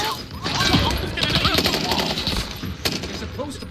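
Heavy automatic gunfire in a battle royale shooter video game, dense bursts of rapid shots and impacts filling the mix, close and loud, with players talking over it.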